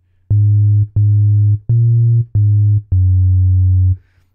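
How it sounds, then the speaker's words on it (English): A sine-wave bass synth programmed in Ableton Live plays five sustained round, warm low notes in a steady rhythm, clean and loud with silence between them. "So we're going to make the first oscillator a sine wave."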